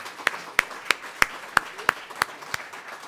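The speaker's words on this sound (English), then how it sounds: "So let's give our honorees one more round of applause." A few hands clap slowly and sparsely for honorees at a university school of social work mural unveiling, about eight distinct, evenly spaced claps in a quiet room.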